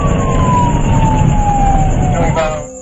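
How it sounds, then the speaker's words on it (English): A police car siren wails loud and close, a steady descending tone held for over two seconds before it shifts and cuts off, with a vehicle engine rumbling beneath during a pursuit of a white Camaro. "As the officer activated their overhead lights and siren"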